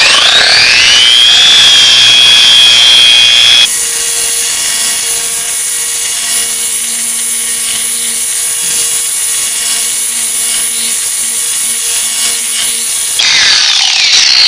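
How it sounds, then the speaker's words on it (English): A trigger-free car paint polisher used for paint enhancement runs with a loud, steady whine. Its pitch drops as it slows near the start and rises again at the end, and it runs alone with no talk. "which actually has no trigger, unlike most polishers"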